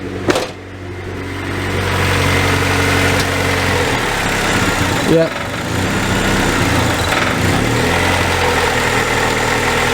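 Car engine idling slightly high because of a vacuum leak, a steady low hum running close by, with a brief dip and change partway through and a short spoken word near the start.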